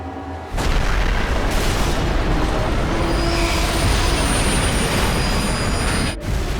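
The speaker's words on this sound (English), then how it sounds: "The trains collide like two charging rams at a combined speed of nearly 200 kilometers per hour." A head-on freight train collision is a loud, sustained roaring crash with dense rumbling and metallic grinding that holds for several seconds and then breaks off abruptly near the end.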